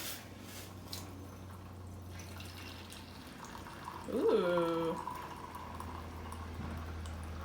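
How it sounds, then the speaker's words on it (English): Hot water poured carefully through ground dandelion root coffee, a short splashing, bubbling pour lasting about a second amid quiet room noise, with a brief exclamation from a person. "And I'm gonna just try to pour it through very carefully."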